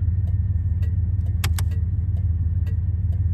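A 1986 Buick Regal Limited V8 idling, heard from outside the car: a steady low rumble with a regular pulse, plus a few short clicks and jingles on top.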